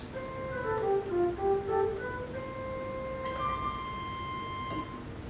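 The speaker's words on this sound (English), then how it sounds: "Then we have a flute" Flute stop of a Wurlitzer theatre organ plays a soft, clear melody of sustained pure-toned notes, heard alone and fairly close in a quiet hall.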